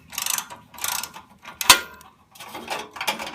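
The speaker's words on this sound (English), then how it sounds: "And that is a 15mm nut, which I'll be removing it now." A wrench loosens a 15mm nut on the exhaust slip-on clamp of a motorcycle, giving a series of close ratcheting clicks in short bursts with pauses between and one sharp metallic tick midway.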